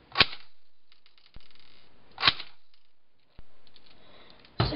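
An airsoft gun fires frozen BBs in three sharp, separate cracks about two seconds apart, each followed by a short fading ring, with quieter clicks between them and no talking.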